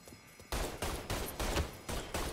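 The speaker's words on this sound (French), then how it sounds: "Putain, mais c'est de la merde ce fusil à pompe" Five heavy shotgun blasts from the pump-action in Mafia III fire at a steady, slightly uneven rhythm, each a loud close boom with a short tail, after a quiet half-second lead-in.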